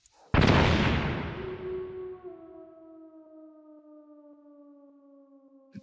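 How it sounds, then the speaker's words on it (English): A flashbang stun grenade detonates in Metal Gear Solid with one sharp, loud bang, followed by a long, steady high ringing tone that slowly fades over several seconds. "Flashbang."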